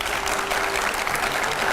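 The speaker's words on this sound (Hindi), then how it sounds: "जोरदार तालियां उनके लिए," Studio audience applause on a Hindi political debate show, loud and dense continuous clapping filling the whole brief moment, close and even with no talk over it.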